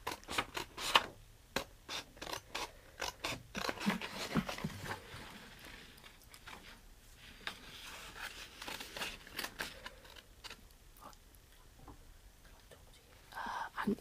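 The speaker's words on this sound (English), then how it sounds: "I found the best way to do this is to just roughly cut out things like around" Scissors roughly snipping around a paper stop-motion puppet, a run of close, quick crisp cuts and paper rustles at low level, with brief handling noises and a few soft words nearby.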